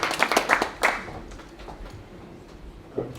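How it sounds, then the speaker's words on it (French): A small audience at an engineering school showroom claps briefly after a student presentation; a quick, close burst of hand claps dies away within about a second, leaving quiet room tone and one late clap. "Je pense qu'on peut les applaudir hein, parce que c'était quand même une très belle présentation avec de très beaux projets."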